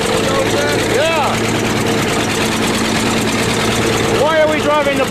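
A bulldozer engine runs steadily at a farm in the snow, a continuous loud low drone with a faint rattle throughout, while people talk over it.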